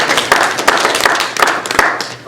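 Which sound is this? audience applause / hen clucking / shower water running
audience applause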